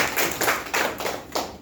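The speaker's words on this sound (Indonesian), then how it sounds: "Kita tepuk tangan untuk teman-teman Kelapa." Brief clapping at a district health office workshop, four or five separated claps in a loose, uneven rhythm rather than sustained applause, moderately loud in a room and with no talk over it.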